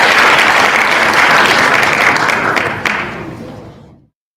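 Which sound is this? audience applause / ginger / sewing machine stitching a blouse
audience applause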